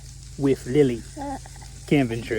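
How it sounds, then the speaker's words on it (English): Burgers frying at Mt. Pisgah Campground give off a steady, soft sizzling hiss in the background, mostly under a close voice talking. "You can hear the burgers we're making sizzling in the background"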